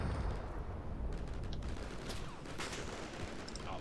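Distant gunfire rattles on in the Combat Mission Shock Force 2 war game, a steady dense wash of rifle and machine-gun shots with scattered sharper cracks over continuous battlefield rumble.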